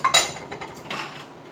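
Dishes and cutlery clink while being washed in a home kitchen: a loud, close rattle of metal and crockery at the start, then a softer scrape and clatter that fades.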